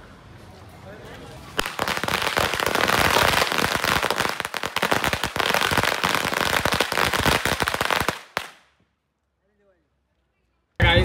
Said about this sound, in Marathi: आता फटाके बिटाके जरा फोडूया.